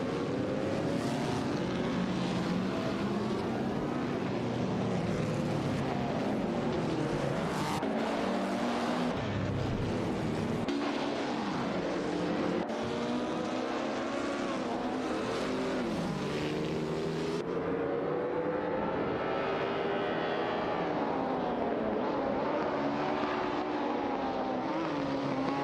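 A Cooper T43 and a Ferrari 125 F1 racing in a video game, their engines screaming continuously and loudly as the pitch rises and falls through gear changes, with an announcer talking over the top.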